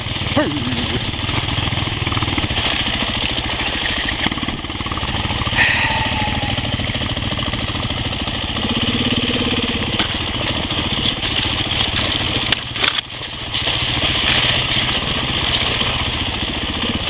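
A Sherco 400 motorcycle engine runs steadily out in snow and ice, a continuous mid-pitched drone with small swells and a brief sharp disturbance near the end, loud and close throughout.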